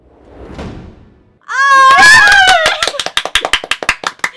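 An audience claps after a clip inspired by a real event is shown, starting as a loud burst amid whoops and cheering voices and thinning into scattered separate claps near the close, after a quieter murmuring stretch.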